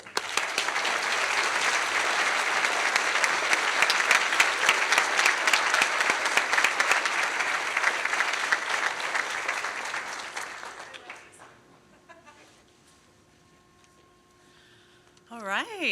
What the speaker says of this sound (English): Final round of applause for the class.